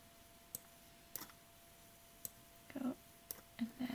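A computer mouse gives about five sharp, separate clicks, spaced unevenly over a few seconds, in a quiet room. A few soft, brief vocal sounds come between the later clicks.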